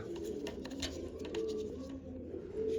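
Pigeons coo softly in a loft of more than eighty birds, with several low, repeated coos overlapping from nearby against faint background rustling and no voices.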